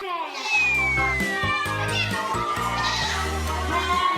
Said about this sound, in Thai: เขาคือแมวป่า